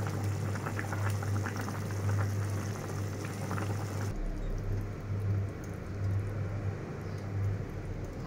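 A thick fish curry gravy of shingi fish with flat beans and potatoes bubbles and simmers in a pan, a close steady burble and hiss that changes tone partway through.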